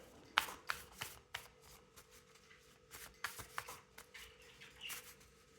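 Oracle animal cards shuffled by hand in a quiet room, a run of crisp, papery riffles and slaps in quick bursts, close up and alone with no talking.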